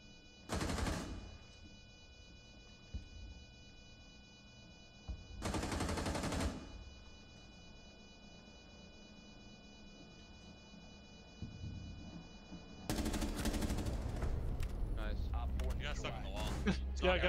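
Automatic gunfire in a first-person shooter video game comes in three bursts: a short volley, another a few seconds later, then a longer sustained stretch of rapid shots at the end, with players talking between them.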